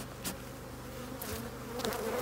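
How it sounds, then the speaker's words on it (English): A swarm of honeybees buzzes in a bee yard during an early spring hive inspection, a dense continuous drone close to the listener with individual bees zipping past. "I'm not a big fan of having swarms of bees"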